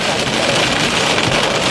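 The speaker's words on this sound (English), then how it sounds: "this is the worst wind and rain we've seen yet" Tropical Storm Harvey's wind and rain make a loud, steady broadband roar with no breaks, a dense wash of storm noise throughout.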